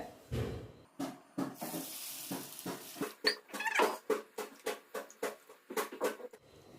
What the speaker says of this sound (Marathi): आणि हे साबुदाणा आणि भगर एक वेळेला आपण पाण्याने धुवून घेणार